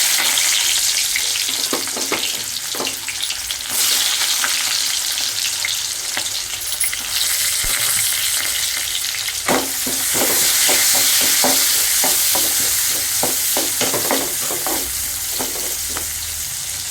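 Onions sauté with fenugreek seeds in plenty of hot oil, producing a loud, continuous sizzle with repeated stirring scrapes and taps, close up and without talk.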